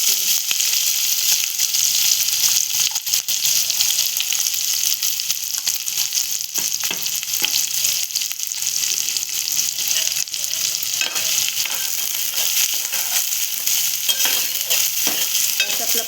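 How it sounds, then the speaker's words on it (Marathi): Two chopped onions frying in a pan for a spicy Marathi-style fish curry, with a steady loud sizzle and crackle and intermittent scraping of stirring, continuous throughout with no talk. "आता आपण टाकते कांदा चिरून घेतलेले."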